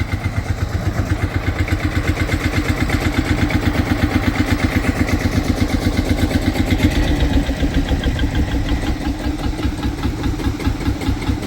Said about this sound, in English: Check out the tractor there.